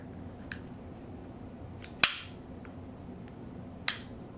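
A Taurus Millennium G2 pistol's trigger gives two sharp, crisp snaps close to the mic, a couple of seconds apart, after one faint earlier click, against a quiet background.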